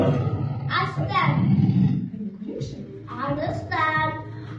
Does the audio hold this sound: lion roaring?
yes